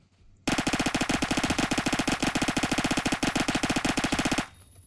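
Rapid automatic gunfire from a weapon in the video game Phantom Forces, one loud unbroken burst of tightly spaced shots lasting about four seconds, then a sudden stop with a faint tail.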